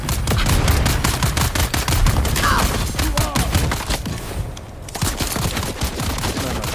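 Dense rapid gunfire fills a firefight in the Dune Awakening video game, with continuous crackling automatic bursts and a brief lull near the end before shooting resumes.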